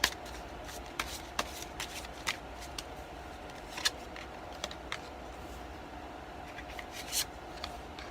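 Tarot cards being shuffled by hand, a quiet stream of soft papery riffles and light taps in irregular bursts, close up with no talking.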